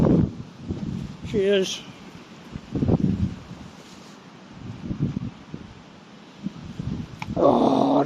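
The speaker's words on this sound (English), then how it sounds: "Oh, windy." Wind gusts over an outdoor microphone in uneven bursts of buffeting rumble. A person speaks briefly between the gusts.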